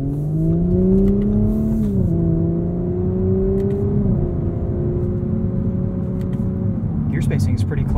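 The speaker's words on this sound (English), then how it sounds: "Eight-speed transmission. Makes all the right noises." Engine drone from a 2021 Audi S4 with an eight-speed transmission, heard from the cabin: it rises steadily through the gears, with a pitch drop at each upshift. It is loud and close.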